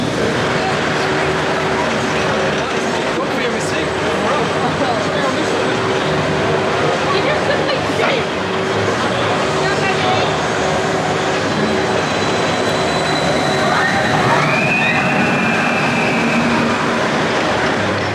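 Steady rumbling and rattling of the Icon roller coaster at Blackpool Pleasure Beach in heavy rain, with rain hissing throughout and a brief whoosh near the end.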